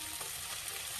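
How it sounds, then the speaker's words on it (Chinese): Sausages and onions pan-frying in a home Aussie-style barbecue, the onions starting to char, giving a steady, close, dense sizzle that hisses evenly throughout with no voices. "实际上我们这就是煎，跟人家那个烤架真正的 barbecue 比不了"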